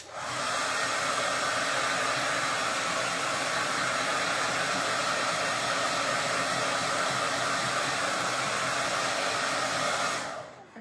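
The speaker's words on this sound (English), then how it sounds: "we're gonna hit it with a blow dryer" A hair dryer drying acrylic paint blows continuously at a steady pitch for about ten seconds, a loud, even rushing whir that cuts off abruptly at the end.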